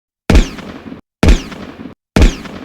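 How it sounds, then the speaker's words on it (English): Three loud, sharp gunshot effects fire at an even, deliberate pace, each with a sudden punchy onset and a decaying tail, then silence before the next, with no voices. "Gunshots, shouting."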